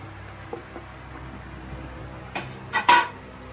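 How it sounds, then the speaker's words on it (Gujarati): Sabudana khichdi with fried peanuts and potato fries being stirred in a pan, giving a few soft scrapes early on, then louder clattering spoon-against-pan scrapes near the end, close and with no voice. "આ રીતે હલાવો"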